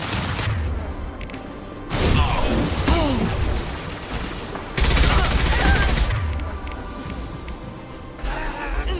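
Heavy gunfire in the shooter game Mass Effect 2, with dense bursts of shots, booms and crashes that surge in waves, loudest in two stretches, under a constant roar of battle.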